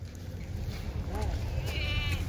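A Kathewadi goat at a livestock sale gives a couple of short, wavering bleats, close by, over a steady background of murmuring voices and crowd noise.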